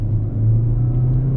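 A Chery Tiggo 7 with a small 1.5 turbo engine and dual-clutch gearbox under kickdown gives a steady, loud, low engine rumble that holds evenly throughout, with no voices over it.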